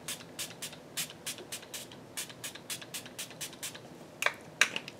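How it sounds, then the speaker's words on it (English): Quick, breathy spritzes of a makeup setting spray bottle repeat in a steady rhythm, around twenty short hisses close by, ending with a couple of faint clicks. "And then I apply my favorite setting spray"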